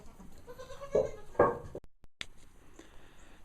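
Goats huddled by a furnace in a windmill complex bleat twice in quick succession, close and clear, followed by a brief dropout and then soft rustling and faint handling noise.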